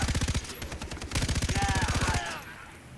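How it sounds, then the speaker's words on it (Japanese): An automatic weapon fires rapid, evenly spaced bursts in the video game Far Cry 3. The shots are loud and close, with a short pause between two long bursts and faint ringing at the end. "この武器の 音いいっすね。"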